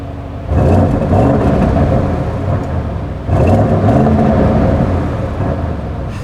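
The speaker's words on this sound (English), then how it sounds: "And then I'm giving it a few revs." A 2021 Audi RS6 Avant engine revs twice while held by a 3,000 RPM limiter, each loud blip swelling into a sustained, rumbling drone before easing back, heard close with no talking.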